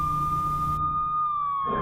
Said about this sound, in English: Are those police sirens?